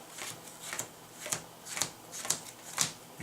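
Playing cards are shuffled over and over, quick papery riffles repeating about twice a second, close by.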